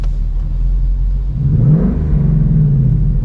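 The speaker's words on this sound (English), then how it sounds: "We're playing with the exhaust, the different sounds of the exhaust." A sports car exhaust in quiet mode rumbles low and steady up close, rising briefly into a subdued rev before settling back to a muted idle.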